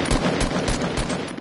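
Fortnite gunfire in a rapid continuous rattle of automatic shots, loud and close throughout.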